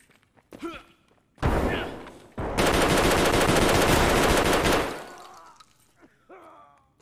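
Rapid KS-23 shotgun fire in Escape From Tarkov, a loud sustained burst of blasts following a single heavy shot, with faint voices before and after.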